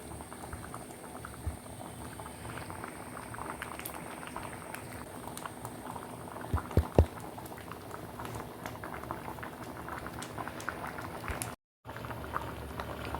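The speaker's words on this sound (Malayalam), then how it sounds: "ഇനി ഒന്ന് നന്നായിട്ട് തിളച്ച് വരട്ടെ" A pot of tamarind curry bubbles steadily at a simmer, with continuous soft popping and gurgling up close, a few sharper pops and one brief dropout, no talking.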